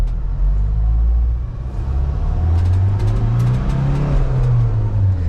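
A 2017 Mahindra Thar's engine hums low and steady while the vehicle creeps along at about 10 km/h on idle throttle alone, heard from inside the cabin with a constant rumble and no talk.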